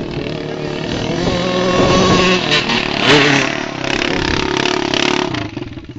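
A Kawasaki KX dirt bike engine runs loud and close, a steady high rasping drone that swells and dips as the throttle works, with a shouting voice partly over it before the engine fades at the end.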